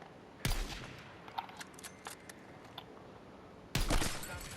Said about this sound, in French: mais ça tire de plusieurs parties, là